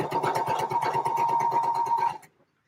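A domestic sewing machine stitches a seam in a fast, even run of mechanical chatter with a steady whine, close and loud, stopping abruptly after about two seconds.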